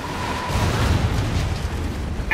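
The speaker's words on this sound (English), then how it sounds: "I'm gonna throw grenades." Grenade explosions in the video game Call of Duty: Infinite Warfare, a loud, sustained rumbling boom with crackling debris filling the whole stretch.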